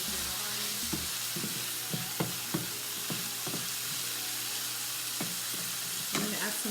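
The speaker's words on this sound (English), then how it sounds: "I'm just going to add my chickpeas very quickly so they can cook up a little bit." Chickpeas cooking in a pan for a vegan chickpea curry, giving a constant bright sizzle with repeated spoon knocks and scrapes against the pan at irregular intervals, close and fairly steady throughout.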